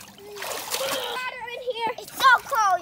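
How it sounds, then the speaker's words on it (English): Children splash in cold water outdoors, with quick splashes and dribbles close by while young voices talk and exclaim over them. "Yoshi splashed you, Cash."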